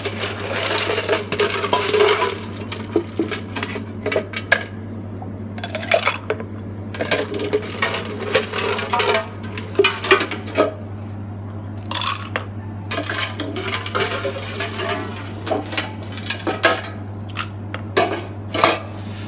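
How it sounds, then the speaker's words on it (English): Ice cubes clatter and clink into a highball glass while a mocktail is being made, giving a run of sharp glassy knocks of varying loudness over a steady low hum, with no talking. "we refill some ice into the highball glass"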